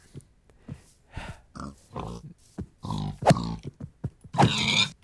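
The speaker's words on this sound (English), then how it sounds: "Yeah, those are pigs" Pigs in the Minecraft video game grunt and oink in a string of short, close calls, about a dozen bursts at an uneven pace with no talk.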